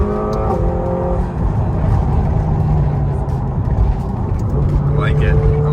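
A McLaren sports car's engine hums steadily from inside the cabin during a test drive, a continuous loud drone with slight revving, while people talk over it.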